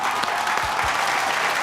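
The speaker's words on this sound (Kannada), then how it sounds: "ಬರ್ಲಿ ಜೋರಾದ ಚಪ್ಪಾಳೆ" A studio audience at a Kannada celebrity television show breaks into steady, dense applause that holds evenly throughout, with a couple of low thumps standing out briefly in the middle.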